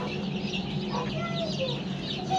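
Chicks cheep in a hatching setup while a newly hatching chick is helped from its egg, with high chirps over a constant low hum and some clucking fowl nearby.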